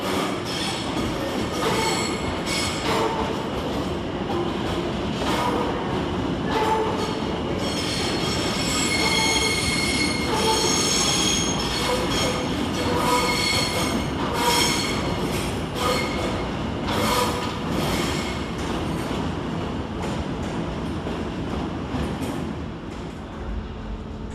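A Greater Anglia train from Cambridge North rolls into London Liverpool Street station with loud, continuous high-pitched wheel squealing and steady rumbling of the cars, with no voices.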